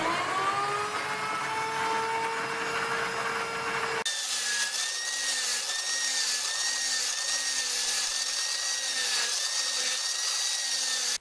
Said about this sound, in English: we're just going to drill into the axe head to loosen this wedge with my recently restored Stanley Bridges drill from 1957